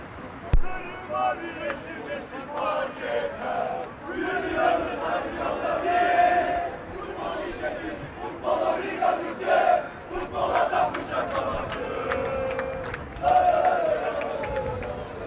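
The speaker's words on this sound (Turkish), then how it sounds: "Orhan Şam için tezahüratlar var." Football fans at an open training session chant rhythmically for a player, a loud crowd of voices rising and falling in repeated waves, with ball bounces and scattered shouts throughout.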